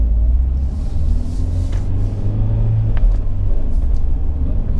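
Steady low engine rumble from inside a moving 2017 Fiat 124 Spider with six-speed manual, droning continuously with faint road noise and a few soft clicks.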